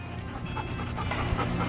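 Puppies play close by with quick, breathy panting and small scuffling movements, steady and fairly soft throughout.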